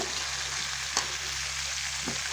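Vegetables and stew ingredients frying in a pan until browned give a steady, close sizzle, broken by a couple of sharp clinks of a spatula stirring against the pan.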